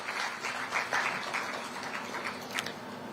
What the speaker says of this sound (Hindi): तालियां आप सबकी तरफ से बजती रहनी चाहिए।